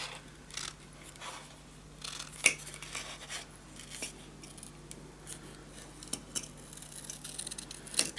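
Scissors cutting paper along a pencil mark for a scrapbook storage tower, a close series of soft, irregular snips and rustles over a faint low hum.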